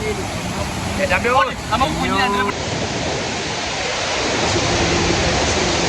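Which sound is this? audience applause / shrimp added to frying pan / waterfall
waterfall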